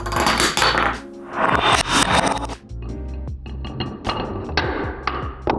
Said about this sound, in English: the domino line falls, which hits the angled domino and springs up the green domino, making the rubber band go off